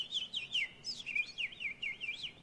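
A person imitates bird noises with rapid warbling, whistled chirps that rise and fall in a continuous trilling run, close and clear.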